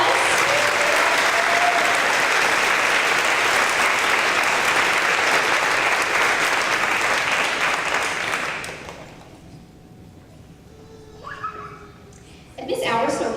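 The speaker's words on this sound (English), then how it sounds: "Give them a round of applause" Loud, sustained applause from an audience at a 5th grade promotion ceremony for a winning team, filling most of the span before fading out, followed by a quieter stretch with brief voices and rustling.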